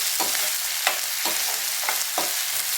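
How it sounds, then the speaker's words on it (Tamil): Onion and tomato sauté in a pan for prawn thokku, a constant close sizzle broken by regular spoon strokes stirring roughly every half second. "வெங்காயம் தக்காளி நல்லா வதங்கி சாஃப்ட் ஆகணும்."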